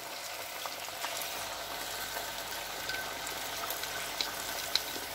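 Stuffed capsicum frying in a pan with a splash of water just added gives a steady, close hiss and sizzle with faint scattered pops, alone without talk.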